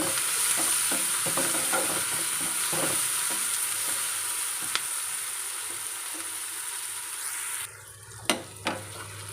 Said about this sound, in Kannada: ಈರುಳ್ಳಿ ಕೆಂಪಾಗೋ ತನಕ ಹುರ್ಕೊಳ್ಬೇಕು